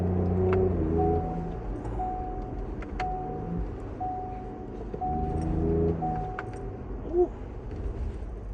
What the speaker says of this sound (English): I think I'm just gonna do less talking and just let you guys hear that exhaust.